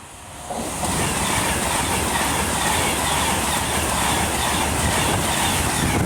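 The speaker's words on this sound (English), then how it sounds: "And then we have an Avanti West Coast Class 390." An Avanti West Coast Class 390 electric train at Rugby on the West Coast Main Line, its roar rising quickly and then holding loud and steady as the carriages rush past close by.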